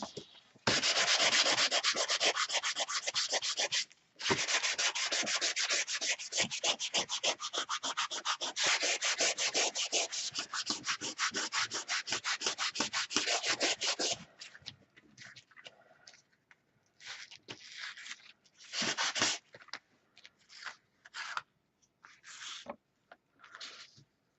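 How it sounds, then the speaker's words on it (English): An electric sander runs on wood for a long continuous stretch, loud and close with a buzzing, rasping tone, stops briefly, then gives way to short intermittent bursts of sanding. "Get my sander out."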